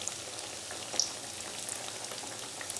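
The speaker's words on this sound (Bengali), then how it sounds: "এই পিঠেগুলো ভাজতে হবে" Bhaja pithe, Bengali rice cakes, frying in oil over low to medium heat, giving a soft, steady crackling sizzle with faint scattered pops, no one speaking.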